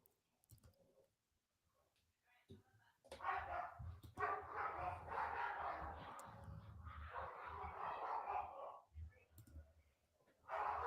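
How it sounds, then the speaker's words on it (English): Dogs bark in a loud, busy cluster of overlapping barks and yelps that starts a few seconds in and continues in bursts, with quieter sounds before and a sharp resurgence at the end. "Dogs barking."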